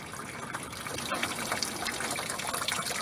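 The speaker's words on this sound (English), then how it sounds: "you're going to hear the coolant flow out a lot faster" Coolant gushes steadily from a car radiator in a continuous splashing rush, close and fairly quiet, with no voices.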